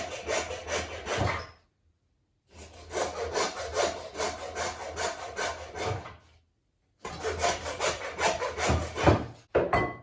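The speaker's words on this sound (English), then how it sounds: "you're just going to get your saw. When you've gone through the bone, stop" Hand saw cutting through lamb bone during home butchery, rough rhythmic rasping strokes in three bursts separated by short pauses, close and fairly loud with no talking.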